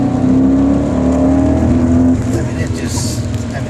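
A 2005 Mercedes CL55 AMG engine revving hard from inside the car, a loud steady drone with rising pitch as the RPM climbs; a voice talks over it.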